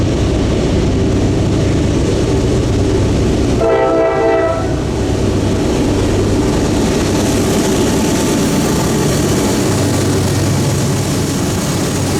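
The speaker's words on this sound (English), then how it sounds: "a wrecked locomotive dead in tow is something I never thought I would see" A loud freight train rumbles past continuously, hauling a wrecked locomotive dead in tow, with a short horn blast partway through over steady rolling noise.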